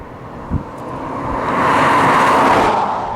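A 2018 BMW 2 Series diesel coupe driving, a steady engine and road rumble with wind noise swelling louder toward the end, heard from inside without talk.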